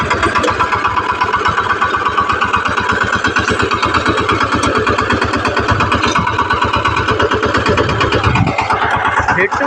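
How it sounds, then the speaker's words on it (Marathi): A tractor used for farm field work, its engine running steadily and loud throughout, with a dense, continuous rhythmic chugging and no voices. "मी चालवला आहे ट्रॅक्टर"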